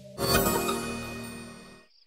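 A short musical sting with a bright, shimmering attack rings out and decays over about two seconds before cutting to silence.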